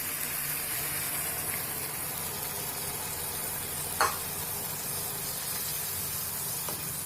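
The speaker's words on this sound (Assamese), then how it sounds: "পানী দি অলপ এনেকৈ কৰি লৰাই দিলোঁ।" Water hitting fish tomato gravy in a hot pan gives a steady, even sizzle and hiss while the pot is stirred, with one sharp clink of the spoon partway through.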